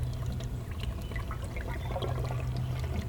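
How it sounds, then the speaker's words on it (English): A bottle of fuel system cleaner is emptied through a funnel into a car's fuel tank, giving a steady, close trickle and gurgle of liquid that runs for a few seconds with no talking. "Just pour the whole thing in."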